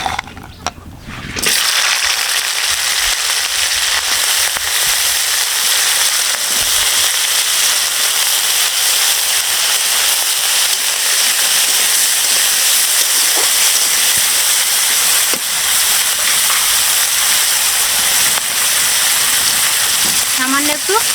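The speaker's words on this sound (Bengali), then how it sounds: "তেল গরম হয়ে গেছে, এখন এই যে ধুয়ে রাখা কাঁকড়াগুলো আমি দিয়ে দেবো।" Small washed crabs dropped into hot oil in a wok, frying with a loud, steady crackling sizzle that starts abruptly after a brief quiet moment and carries on densely throughout, with occasional sharper pops.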